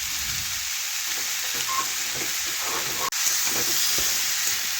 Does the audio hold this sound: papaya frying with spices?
yes